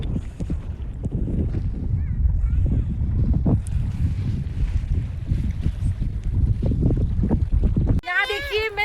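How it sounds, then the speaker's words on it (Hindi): Strong wind buffets the microphone in heavy, continuous low rumbling gusts at Pangong Lake in Ladakh, with a voice speaking briefly at the very end. "बहुत हवा चल रही है।"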